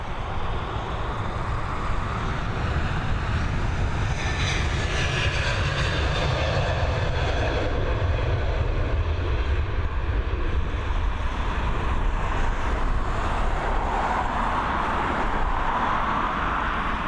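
An Air Transat airliner takes off at Dublin Airport, its engines giving a steady, loud broadband roar that holds for the whole stretch with a wind-like rush and no talking.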